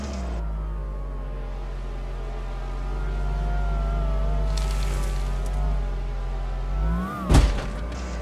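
Greycat buggy from a video game driving, a steady droning engine hum with a shifting tone, rising slightly midway and ending in a brief louder burst near the end.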